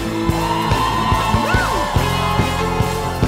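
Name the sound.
church congregation shouting for joy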